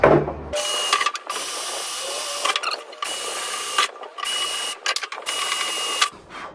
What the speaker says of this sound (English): 4 spots to drill.